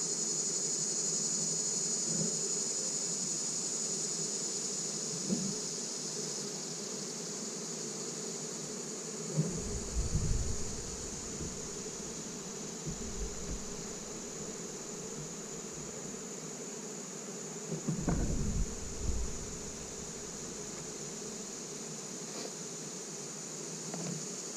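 Bees buzz steadily around hives in a yard, a continuous insect drone with a few brief low bumps and knocks near the middle and later on.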